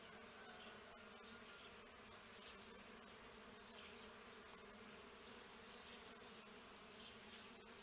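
Bees swarming around a flowering grapevine outside a house, a dense, continuous buzzing drone at moderate distance, fairly quiet and unbroken throughout.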